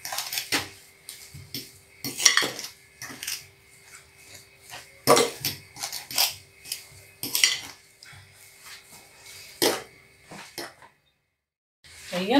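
Spices being mixed by hand in a dish while making a fish spice blend, with repeated light scrapes and clinks of utensil on dishware in uneven bursts, fairly close, with a brief quiet gap near the end.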